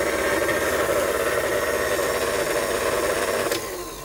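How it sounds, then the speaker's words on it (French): A stand mixer running at very slow speed for brioche dough, a steady loud motor hum with mechanical whir, easing slightly quieter near the end. "Alors, Pierre, je vais partir vers le batteur avec mes différents ustensiles. Alors, on va mettre... On met à vitesse très lente."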